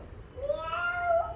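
A person's voice imitates a cat's meow, a single rising and falling mew lasting about a second over faint background noise.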